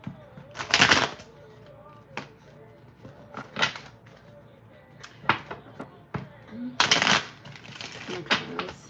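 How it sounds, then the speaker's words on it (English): Tarot cards being shuffled produce intermittent riffling bursts and soft slaps, near and irregular, with quiet gaps between them. "And I've been shuffling for a minute"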